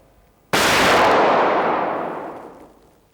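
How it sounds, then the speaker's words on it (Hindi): A single sharp pistol shot at shooting practice, close and loud, with a long fading echoing tail after a quiet moment, and no talking. "उंगली हल्के से रखना ट्रिगर पर और गन की झटका शरीर में एब्जॉर्ब करो"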